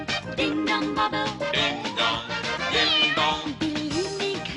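A cartoon cat meows repeatedly in quick, high-pitched, sing-song cries over a busy musical backing, loud and close throughout.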